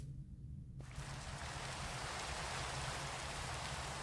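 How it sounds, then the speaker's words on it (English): Steady rain in Minecraft sets in after a second of near quiet, a dense, even hiss of falling drops that continues unbroken at a constant level. "It then begins to rain"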